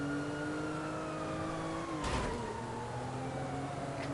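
Car engine in the video game Grand Theft Auto V, played on PS5, drones steadily with falling pitch under a game soundtrack, and a loud crash-like burst lands near the middle.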